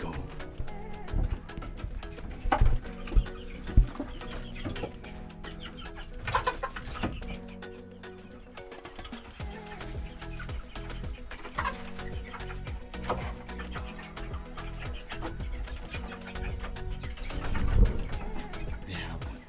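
Newly arrived hens cluck in a continuous, busy chorus on a farm in Switzerland, with other birds and faint farmyard noise around them.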